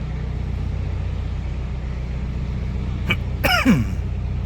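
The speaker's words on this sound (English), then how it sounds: "That's not a persistent cough." A single short cough, then a throat-clearing burst, sounds near the end over a steady low engine rumble aboard a canal boat near Braunston.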